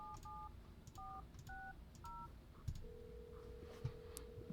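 Dial tones beep from a phone in the horror video game No I'm Not a Human: a rapid series of short keypad tones, then a steady held tone, with soft clicks in a quiet room.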